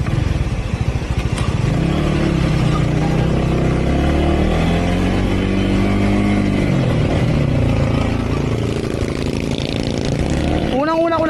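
Honda Winner X motorcycle pulling hard under acceleration on a test ride, a steady engine drone with rising and falling pitch sweeps, loud and close, with wind noise and a rider talking over it.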